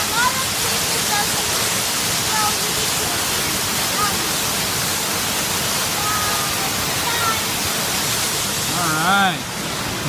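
The large Mala Noche waterfall roars as a loud, constant broadband rush, with faint voices and a brief whistle-like tone near the end.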